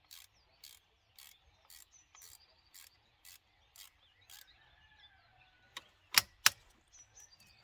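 A hand ratchet clicks in quick, evenly spaced bursts as a bolt is loosened while changing a filter on a DKV, quiet and close, ending in a few sharper metallic knocks.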